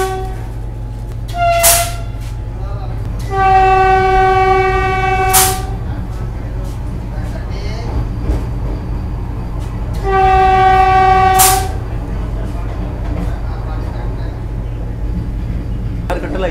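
An eight-coach Vande Bharat Express sounds its horn at Mahbubnagar railway station, two loud sustained blasts about six seconds apart over steady rumbling station and train noise.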